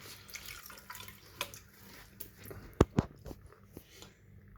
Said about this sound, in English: I'm squeezing all of the cabbage water out